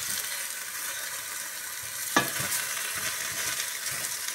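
Eggplants sauté in oil in a pan with a constant close sizzling hiss, marked by a sharp scrape or clack of a utensil midway and occasional soft stirring.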